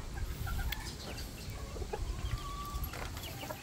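Chickens and chicks on a chicken farm cluck and peep continuously, with soft chirps and short calls over a low background rumble, moderately close and faint, and no talk.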